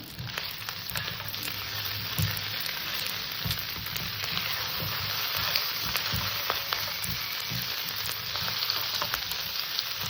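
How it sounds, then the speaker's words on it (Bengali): Mutton frying in a pan with green chillies, giving a loud, continuous close-up sizzle with crackling spatter throughout and faint stirring. "এবার মাংসটাকে আমি সুন্দর করে কষে নেব"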